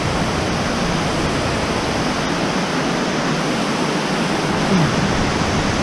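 Waptus Falls on the Waptus River thunders steadily nearby, a dense, unbroken broadband roar of falling water with no pauses or voices.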